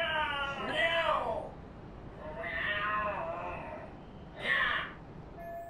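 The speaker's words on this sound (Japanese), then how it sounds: "もう一回猫の声聞くか。" Cats meow and caterwaul in the video game Lost Judgment, three drawn-out yowling cries spaced a couple of seconds apart, fairly close and distinct.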